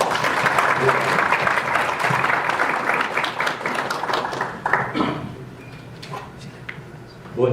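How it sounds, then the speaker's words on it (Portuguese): Audience applause at a Holistica 2016 conference talk on the return of Jung, loud and continuous before thinning after about five seconds into scattered claps and a brief voice. "Uma salva de palmas, por favor."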